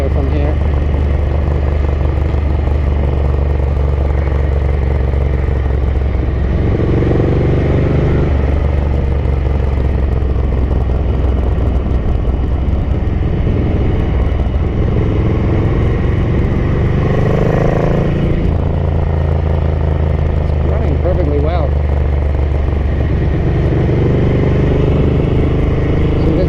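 A Ducati 900SS Bevel motorcycle being ridden on a road toward the motorway, its engine droning loudly and steadily with gear changes and rising and falling revs throughout.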